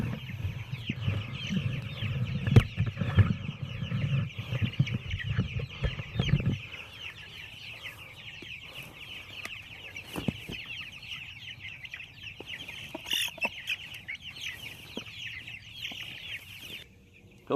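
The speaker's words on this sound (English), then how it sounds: "so that was a little bit of a chicken rodeo" Chickens on a small farm clucking and squawking as they are chased and caught, with bursts of wing flapping and loud rustling early on, then steadier agitated clucking, close and busy, with no talking.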